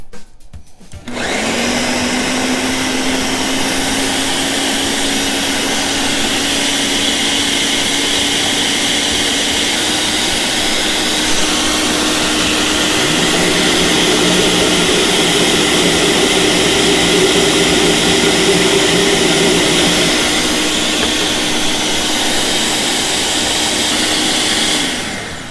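A blender whirs at high speed as its blades purée a fermented Thai plum hot sauce, kicking on after a second and holding a loud, steady whine for over twenty seconds, with a slight pitch rise midway before cutting off.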